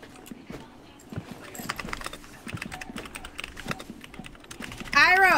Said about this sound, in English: why are you typing your biography right now?